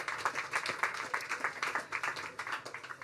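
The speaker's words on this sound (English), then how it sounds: "This man, give him a round of applause" An audience applauds a man at a Black-owned media event, a full, lively burst of many hands clapping in a pulsing rhythm, steady throughout with no talk over it.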